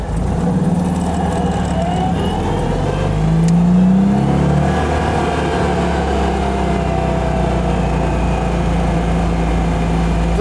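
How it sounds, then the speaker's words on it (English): A Citroen 2CV with a newly fitted, low-mileage engine drives steadily, its small engine droning loud and constant with a slight rise in revs partway through, road and wind noise underneath. "Seem a very sweet little engine."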